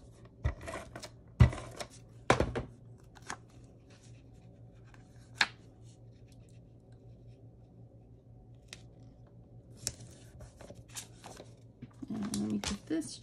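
Scissors trim paper for a simple postcard with a few sharp, close snips scattered between quiet handling sounds and soft rustling.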